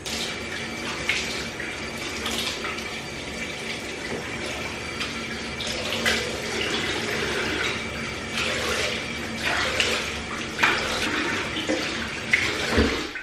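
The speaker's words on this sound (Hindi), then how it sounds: "अब मैं मुंह धो लूँगी।" Tap water runs steadily while a face is washed during a morning skincare routine, with splashing and intermittent bursts of water hitting hands and skin, close and continuous throughout.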